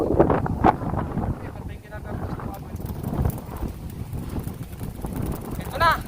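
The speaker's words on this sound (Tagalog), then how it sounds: "Ito na ang mas matinding hangin mga kapatid kaysa nung nakaraan" Strong typhoon wind from Typhoon Carina gusts and roars steadily across an open microphone, loud and continuous, with people talking over it throughout.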